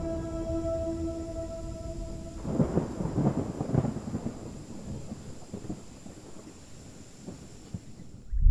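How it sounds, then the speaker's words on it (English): A thunderstorm in the forest: a low, rolling rumble of thunder rises and fades over several seconds above a steady wash of rain and wind, with a faint tonal hum lying underneath. "And a storm is on the way."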